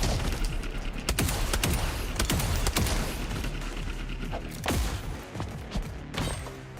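Dense, continuous gunfire from the video game REPLACED, with rapid bursts, booms and sharp mechanical clicks layered throughout, loud and busy from start to finish with no talk.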